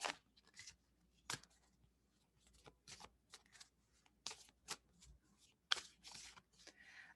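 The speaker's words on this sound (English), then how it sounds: "I'm just shuffling because I took those cards" Tarot cards being shuffled by hand in short separate bursts of riffling and sliding, close and fairly quiet, with brief pauses between each pass.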